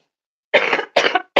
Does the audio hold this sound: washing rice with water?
no